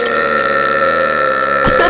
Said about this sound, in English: Do you need a burp?